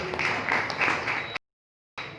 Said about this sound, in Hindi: आपके लिए भी ताली